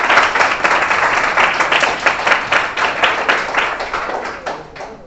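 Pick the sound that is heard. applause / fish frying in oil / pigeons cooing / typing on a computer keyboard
applause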